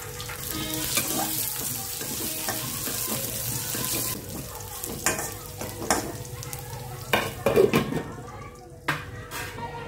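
Onions and peanuts fry in a pan with a soft steady sizzle while a spoon stirs and scrapes, followed by sharp clinks of utensils against the pan near the end.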